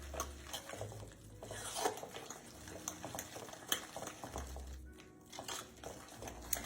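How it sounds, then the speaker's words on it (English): A spoon works through a thick spinach dip mixture with sour cream and water chestnuts in a bowl, producing soft, irregular scraping and squelching strokes with occasional light clinks, quiet and close, without speech. "We're gonna give this a good stir."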